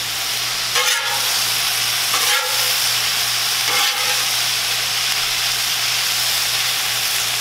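Steak sizzles on a cooker at a campsite with a loud, constant close hiss, broken by a few soft scraping stirs, and no voices.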